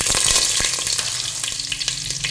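A small onion sizzles in hot oil with popped mustard seeds for a Kannada crab and basale curry, a continuous close frying hiss scattered with sharp crackles and pops, loud at first and settling slightly, with no voices.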